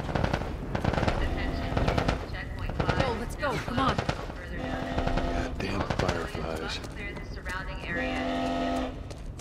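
Bursts of rapid automatic gunfire in The Last of Us Part I, loud and close, repeated in several volleys and mixed with shouting voices and game sound effects.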